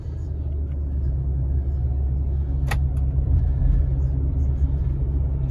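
A fully loaded 2017 Nissan Pathfinder on the road, heard from inside as a steady low engine and road rumble that holds even throughout, with a brief sharp click partway through.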